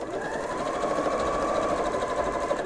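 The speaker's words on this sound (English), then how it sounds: "we're sewing right along the little edge there" A sewing machine runs steadily, stitching along the narrow edge of a fabric napkin with a continuous, close, even whir and no voices.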